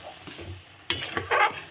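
A spoon scrapes and clinks around a pot as sugar and a little salt are stirred in, with a few short, close strokes over quiet background.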